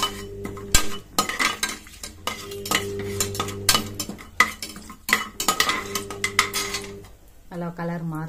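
Cashew nuts sautéed in a pan for tomato rice, a spoon scraping and stirring in repeated strokes with light clinks against the metal, over a soft sizzle and a steady low hum.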